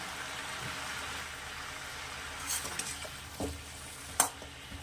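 Green chillies fry and get stirred in a pan for a Bengali-style mung bean and vegetable dish: a quiet, steady low sizzle throughout, with a few short spoon scrapes and taps toward the end.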